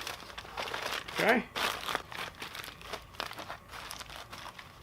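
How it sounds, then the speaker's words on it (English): Aluminum foil folded and crinkled by hand around a smoked Boston butt from a Masterbuilt electric smoker, a short burst of crisp crackling, with a man's brief word spoken just before. "Fold this foil up like so."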